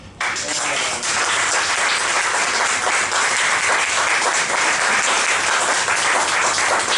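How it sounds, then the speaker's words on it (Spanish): After a brief moment of quiet, a full audience at a talk and debate breaks into loud, sustained applause that stays dense and even to the end. "Gran aplauso, entonces."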